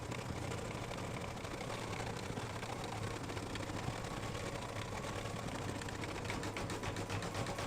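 An embroidery machine stitching a wide satin stitch at slow speed on an in-the-hoop mug rug, a steady low mechanical whir and rapid needle chatter running evenly and close for the whole stretch, no voices.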